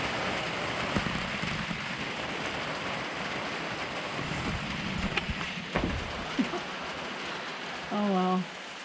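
Steady rain patters on a surface, with a few knocks and thuds nearby and a brief tonal creak near the end.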